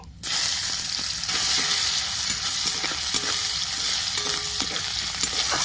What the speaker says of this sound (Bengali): পেঁয়াজটা দিয়ে দিচ্ছি তেলে